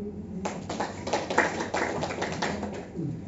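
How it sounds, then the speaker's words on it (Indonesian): Congregation at a Sunday church service in Surabaya clapping hands, a short burst of scattered, fairly close claps that starts abruptly and fades after about three seconds. "Kasih tepuk tangan."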